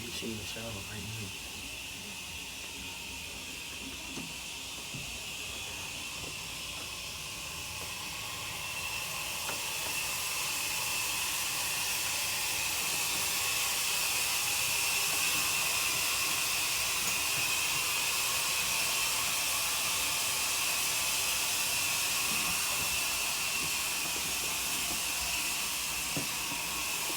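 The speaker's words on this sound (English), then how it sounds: "she in the shower right now" Shower water running upstairs in a house makes a steady hiss that grows louder and fuller partway through and holds, heard from a distance under faint room noise.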